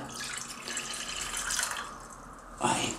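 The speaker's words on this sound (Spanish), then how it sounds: "Echamos el agua en unos cacitos." Water pours steadily from a small jug into small pots, a continuous splashing stream that shifts pitch near the end.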